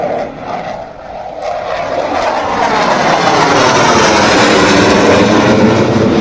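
Air Force fighter jets doing a land-and-go drill on a concrete expressway airstrip, a loud engine roar that builds within seconds into a sustained, close, powerful rush.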